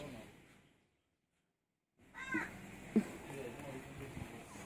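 Two cats scuffle, and one lets out a short strained meow after a brief silence, with a person talking over the noise nearby.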